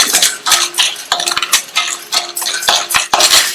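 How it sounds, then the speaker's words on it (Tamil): Chana dal, about 100 g, being dry roasted in a pan on a medium flame, with repeated scraping and stirring strokes of a spoon against the metal and a rattle of dry lentils, close and loud. "இதுல 100 கிராம் கடலை பருப்பை சேர்த்துட்டு இந்த பருப்பையும் மீடியம் ஃப்ளேம்ல வச்சு கருகிராம நல்லா பொன்னிறமா வர வரையும் வறுத்துக்கணும்."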